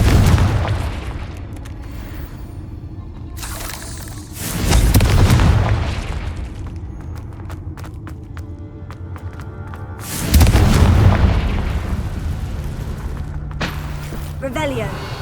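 Two deep, rumbling booms from the Confringo fire spell in Hogwarts Legacy, each swelling then fading over several seconds, amid layered game effects and crackles.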